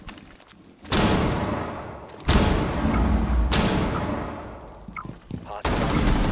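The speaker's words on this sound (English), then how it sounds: "Throwing flashbang." A flashbang grenade goes off in Rainbow Six Siege while defending a kids bedroom, with loud sharp bursts and heavy thuds repeating over several seconds amid game noise, with players talking faintly.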